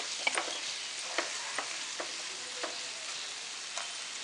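Onion frying on a low flame for Maharashtrian Aagri mutton kheema, a soft steady sizzle with occasional light stirring clicks and taps, fairly quiet and close, no voices.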